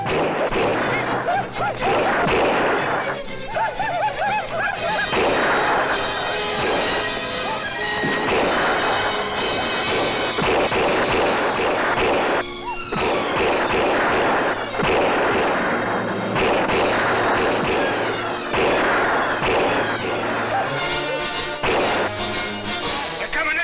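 Cannon and gunfire from a Western battle scene boom and crack in dense repeated volleys over about twenty seconds, loud and near, with brief pauses between bursts and some shouting mixed in.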